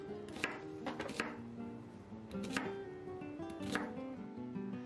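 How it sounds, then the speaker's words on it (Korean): One onion being sliced for a melon pickle, heard as a handful of sharp knife chops spaced unevenly over a steady tonal background, close and moderately quiet, without speech. "양파 1개를 썰어주세요."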